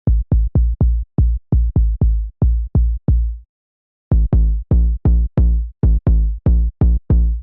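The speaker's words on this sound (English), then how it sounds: "Bass Goofy is this 808 style bass that you can hear in a lot of tech house tracks" An 808-style tech house bass sample called Bass Goofy thumps in short, punchy, evenly spaced low hits, about a dozen in a row, then a brief gap before the pattern returns, loud and alone.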